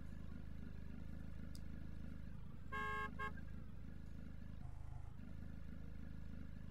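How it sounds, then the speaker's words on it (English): A car horn in the Roblox game Lumber Tycoon 2, two quick honks over a continuous low engine drone from the game vehicle, with no talking. "Honk, honk."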